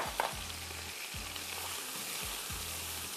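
Chopped onions sizzle and fry steadily in a pan while cooking vegetable and chicken pulao, a continuous close crackling hiss with low periodic thumps, no talking.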